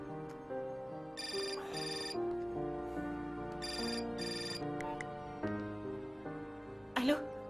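Telephone ringtone chirping in repeated electronic bursts, loud and close, playing on over a steady musical hum with a brief sharp rise near the end.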